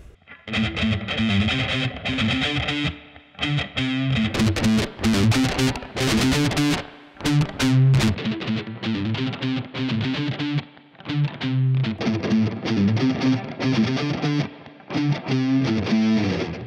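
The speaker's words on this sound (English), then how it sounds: "Now let's try a simple riff." Heavily distorted electric guitar riff recorded through a Torpedo Captor, loud chugging chords and short bursts in a tight rhythm, with brief gaps between phrases and no voice over it.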